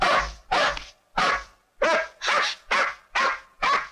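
Hunting dogs barking aggressively, a rapid series of about eight loud, close barks with a growly edge, evenly spaced.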